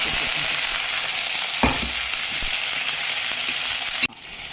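Red chillies, peppercorns and curry leaves frying in hot oil, a loud continuous crackling sizzle broken by one stir midway and a sharp drop in intensity just before the end.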